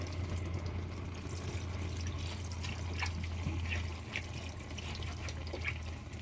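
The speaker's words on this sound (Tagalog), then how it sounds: "Ito yung unang ilalagay ko, yung unang piga na gata." First-press coconut milk trickles and splashes softly into a pot of cooking taro, a faint, steady liquid pour with a low background hum.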